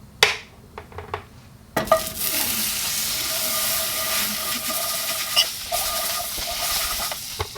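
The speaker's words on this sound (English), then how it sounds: "when you fry something in butter" Fish frying in butter in a pan outdoors by a riverbank, a few sharp clicks and clatters, then a sudden loud sizzle that hisses steadily with crackling spatter, close and without voices.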